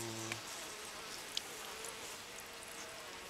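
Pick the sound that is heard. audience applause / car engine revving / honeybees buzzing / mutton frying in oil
honeybees buzzing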